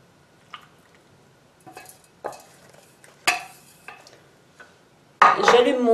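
Oat cereal coated with coconut oil, maple syrup and honey is stirred in a dish: scattered soft scrapes and clinks of a utensil, then a louder, denser burst of mixing at the end.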